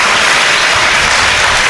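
A crowd applauding at a gathering, dense and loud clapping that stays steady throughout without any pause.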